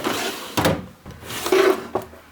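An art storage drawer holding miscellaneous supplies slides open with a few short wooden scrapes and knocks, close by and alone with no talking.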